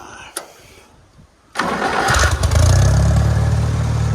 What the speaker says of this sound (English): Let me see if I can crank the tractor up